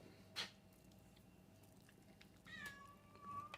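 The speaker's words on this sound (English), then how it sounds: "There's my other cat." A cat gives one drawn-out, rising-and-falling meow near the end, fairly faint in a quiet kitchen after a brief earlier click, with no talking.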